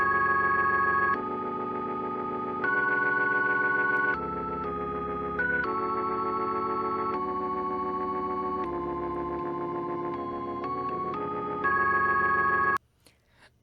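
Organ and electric piano stems from an Arturia Stage 73 playing together, sustained chords and melodic lines in a steady, loud mix that stops abruptly near the end, leaving a few faint clicks.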